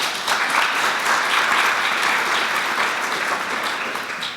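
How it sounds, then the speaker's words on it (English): An audience at a food innovation summit panel applauds the panelists, a sustained, even round of clapping filling the whole stretch. "Let's have a round of applause for our panelists."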